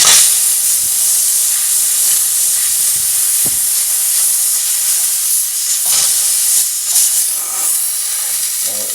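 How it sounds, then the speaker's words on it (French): A pressurised steam jet at 8 bar blasts through the inside of a brass instrument during cleaning in a repair workshop, making a loud, steady hiss that runs unbroken from start to finish. "on va finir avec un jet de vapeur à 8 bars, donc un jet de vapeur sous pression"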